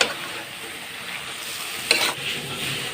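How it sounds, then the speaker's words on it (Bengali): Meat frying in hot oil with bay leaf and garam masala, seasoned with salt and turmeric, a loud continuous sizzle close up with a sudden spitting burst midway. "তার জন্য মাংসটা ছেড়ে দিলাম সামান্য লবণ অল্প হলুদ"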